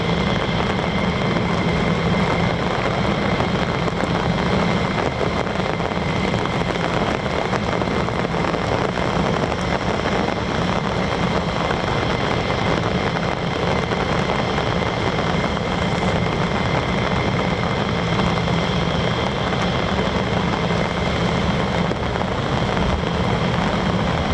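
US Air Force F-15 and F-35 fighter jets depart from RAF Lakenheath, a constant broad roar of jet engines rumbling on without letup at a steady, loud level.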